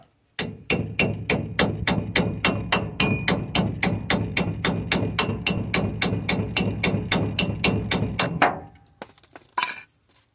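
Rapid, steady metal-on-metal hammer blows strike a punch against a stubborn bolt on a vehicle, about thirty close, loud, evenly spaced hits that stop abruptly, followed by a brief scrape.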